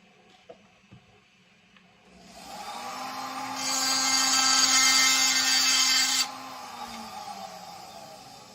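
A power drill whirs up and runs at full speed for a few seconds, biting into metal near a spot weld with a high whine, then eases off.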